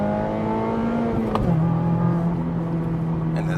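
Mazda ND3 Miata engine revving while driving, a steady droning engine note that climbs, then drops in pitch at a shift before holding a lower tone, heard from inside the car with no talking.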